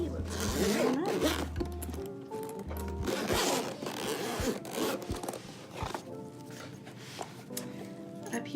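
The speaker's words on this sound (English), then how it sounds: "Looks like it has a good durable zipper that goes all the way around" Scratchy zipper runs rasp in short bursts, the fabric case of a FeiyuTech G6 Plus gimbal being unzipped up close amid rustling handling noise.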